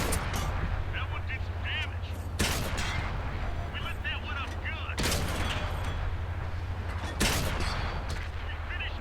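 Bursts of autoloader cannon fire from a light tank in World of Tanks on console, three heavy shots spaced a couple of seconds apart over a rumbling engine, with a voice talking between them.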